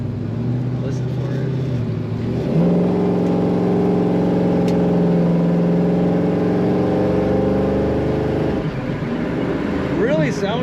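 A 1967 Ford Mustang coupe with an automatic transmission runs close by, its engine and exhaust giving a steady, loud, rich drone that rises in pitch and holds a throaty tone for several seconds before easing off.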